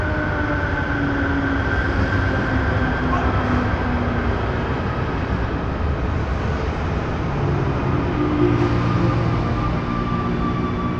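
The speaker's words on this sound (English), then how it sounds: "Oh, the metro's here." A metro train arrives at a station in Medellín, a loud, sustained rumble with screeching wheels and whining tones. The noise is steady and close for the whole stretch.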